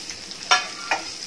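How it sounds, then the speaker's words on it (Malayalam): Garlic and curry leaves being sautéed in a pan over a medium gas flame, with two short stirring scrapes and a soft, steady sizzle underneath. "കുറച്ച് വെള്ളുള്ളി ചേർക്കാം, കുറച്ച് കറിവേപ്പിലയും ചേർത്ത് വഴറ്റാം"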